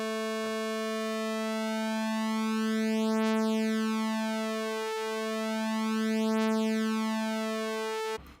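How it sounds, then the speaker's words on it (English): Two detuned saw-wave oscillators on a Rob Papen Predator-3 software synth hold a steady, bright, buzzy tone, with a slow, gentle flanging sweep rising and falling through the harmonics; the sustained note ends abruptly with a click. "you can hear a small flanging."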